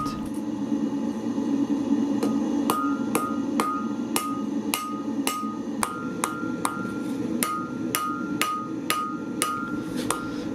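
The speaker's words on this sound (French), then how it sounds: "on commence la forge de la lame" Steady hammer blows ring out on a Damascus steel blade during forging, about a dozen sharp metallic strikes at an even, unhurried pace over a constant background hum, loud and close.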